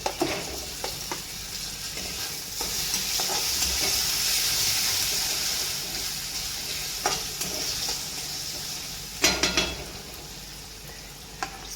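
Potatoes frying in a pan while upma is prepared, a steady close sizzle with hissing oil, interrupted by a few sharp scrapes and clatters of a spoon stirring against the pan, with no talk.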